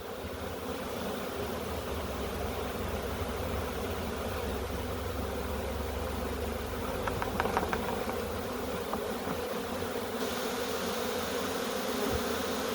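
Honey bee swarm shaken into a hive fitted with frames of comb and brood: a dense, continuous buzzing drone close by, with a brief cluster of sharp rattles and knocks midway, no voices.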